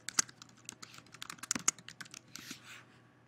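Quick bursts of keystrokes on a computer keyboard, a rapid uneven run of close, crisp clicks lasting about three seconds, with no voices.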